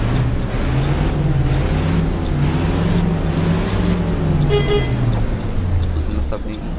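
Bus horn of an Apache Vip IV OF-1721 Bluetec 5 bus in the OMSI 2 bus simulator game: a loud, sustained low honking tone that holds for several seconds over steady engine rumble.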